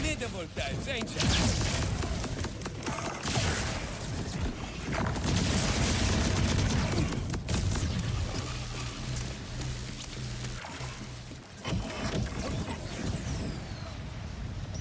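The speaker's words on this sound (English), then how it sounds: "Let the shoulder cannons take care of these guys." Shoulder cannons fire at enemies in Borderlands 4, a dense, loud barrage of booms and mechanical blasts with continuous battle noise, mixed with speech.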